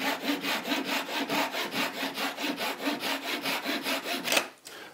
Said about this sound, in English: I've got a little pull saw.